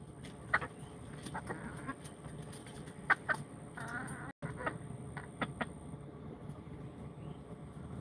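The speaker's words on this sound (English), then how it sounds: "these are all of his hens, and he doesn't want the other rooster near his hens" Hens and a rooster clucking among a flock of chickens, scattered short calls and squawks at a moderate distance over steady low background noise, with no speech.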